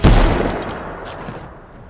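Gunfire in the Mass Effect video game: a loud, close burst of shots at the start that quickly fades into a decaying rumbling tail, with no talking.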